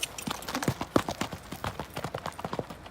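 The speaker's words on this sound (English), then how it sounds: "A real horse. Got real horsepower." A horse's hooves clip-clop in a quick, steady rhythm, close and fairly loud, on a ranch with no talking over them.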